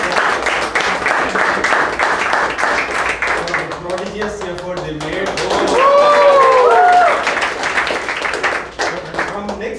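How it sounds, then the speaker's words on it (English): Audience clapping at the close of a club meeting, a dense patter of many hands that runs under someone speaking over the applause. "Please give them a great round of applause."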